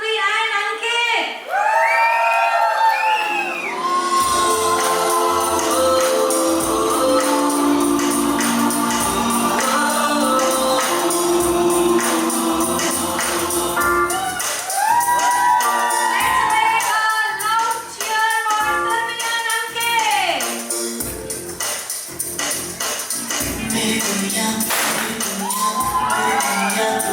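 Guests at a baby shower cheer, whoop and clap in a loud sustained burst, with children shouting among them and music rising underneath.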